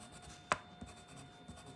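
Graphite pencil shading on a Zentangle tile: a few soft, close scratchy strokes, with one crisper stroke standing out among fainter rubs, and no talking.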